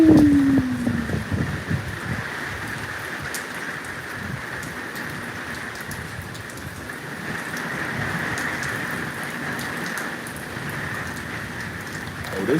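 Steady rain falls in a continuous soft patter with scattered drops, a constant hiss throughout with no voices.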